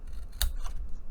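Scissors snip once through material for a mini backpack, a single short sharp cut close by over low background hum.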